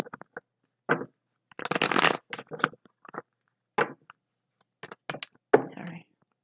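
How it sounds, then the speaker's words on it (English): Tarot cards being shuffled by hand in short bursts of riffling and slapping, close and quiet, with irregular pauses between the bursts and no talking over them. "Five shuffles for Libra and their person"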